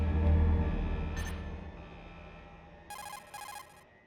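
The Metal Gear Solid codec call ringtone from the video game chirps faintly, two short electronic ring bursts near the end after a low hum fades out.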